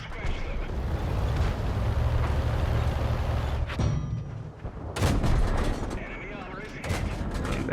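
Tank cannon shells firing in World of Tanks, heavy booming blasts over a constant engine rumble, with a voice talking across the battle.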